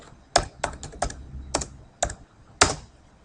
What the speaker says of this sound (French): Je tape ici le nom de page